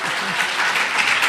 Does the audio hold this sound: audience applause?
yes